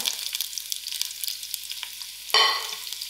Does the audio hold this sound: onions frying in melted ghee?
yes